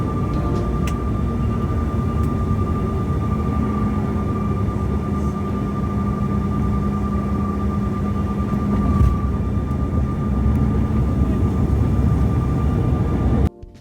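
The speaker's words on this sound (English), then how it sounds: "we began our final descent into Raleigh" Constant jet cabin roar inside a Delta Connection CRJ-900 regional jet on final descent into Raleigh, a steady broadband rush with a faint sustained tone, cutting off abruptly at the end.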